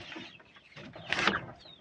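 Two-week-old Rhode Island Red chicks give a few brief, high peeps among soft rustling, fairly quiet and close.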